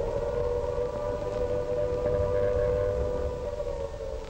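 A civil defense air raid siren wails steadily during the London Blitz of the 1940s, a loud, sustained rising-and-holding tone that fills the whole stretch with no voices.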